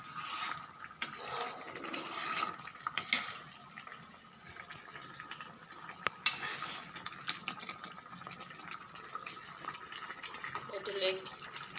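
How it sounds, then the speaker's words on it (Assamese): Leg pieces of meat boiling in water in a pot give a steady, faint bubbling hiss, with a few light clinks of a utensil against the pot. "এয়া এতিয়া উতলি আছে মাংস।"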